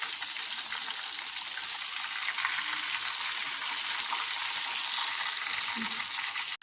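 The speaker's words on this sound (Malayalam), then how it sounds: "ഇതുപോലെ നമുക്ക് എല്ലാതും ഒന്ന് ഇങ്ങനെ പൊരിച്ചെടുക്കാം" Stuffed squid filled with chicken frying in hot oil, a steady crackling sizzle throughout with faint bubbling, close and fairly quiet, no talking.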